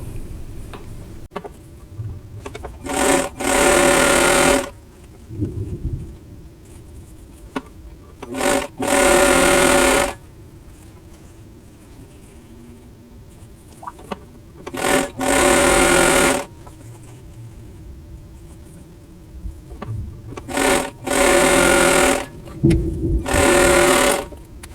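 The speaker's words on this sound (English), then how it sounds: "I'm going to start from the center and sew out to the" A sewing machine stitches flying geese units of a memory quilt block in several loud, rapid bursts of a few seconds each, separated by quieter pauses with faint handling and fabric movement.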